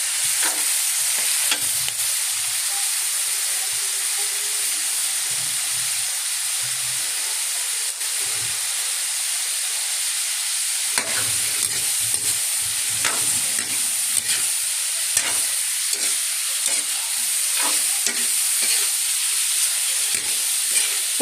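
Pork and liver frying in a pan for Valenciana give a steady, loud sizzle and hiss, with scraping stirs breaking through now and then and no voices.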